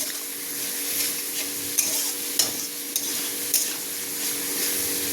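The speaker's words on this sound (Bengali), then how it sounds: "সব কিছু দিয়ে এবার ভালো করে কষিয়ে নেব।" Spices, green chilies and other ingredients for a fresh fish curry being stir-fried in a pan, a soft steady sizzle with several sharp scrapes and knocks of a spoon against the pan, no voices.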